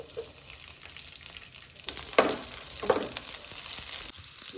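Green chillies and onion frying in hot peanut oil: a steady crackling sizzle close up that swells louder partway through as the pieces hit the oil, with a couple of spoon clinks and no voices.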